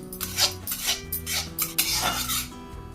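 Fried potatoes are tipped and scraped from a pan into another pot, giving several close metallic clanks and scraping rubs of utensil against cookware in uneven bursts, with no talk.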